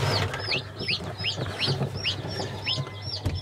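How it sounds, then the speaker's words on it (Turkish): Small partridge chicks chirp over and over, quick high peeping calls in a steady rhythm above a low background hum. "bunlar keklik yavrusu"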